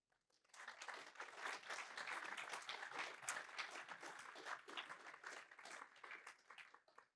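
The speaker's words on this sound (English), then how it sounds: "I think that they deserve a round of applause for this." Audience applause at a presentation launching a board game publisher's Canadian team: a full crowd claps steadily for about six seconds, then the sound dies away quickly.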